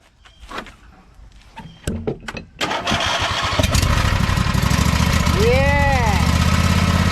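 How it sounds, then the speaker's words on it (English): A John Deere lawn mower engine, just repaired with exhaust welding, cranks in a few short bursts, then catches and runs at a loud, steady idle nearby while people talk over it. "Turn the key, Mama. Let's see what it sounds like."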